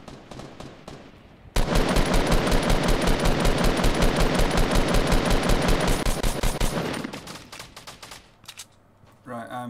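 Rapid automatic gunfire from the video game Fortnite rattles in a loud, continuous burst lasting several seconds, then tapers into scattered single shots.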